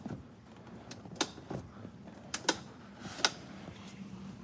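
Seats on a 2019 Barletta L23UC pontoon boat pop up into their positions with a few soft, separate mechanical clicks, spaced about a second apart, over a quiet background hum.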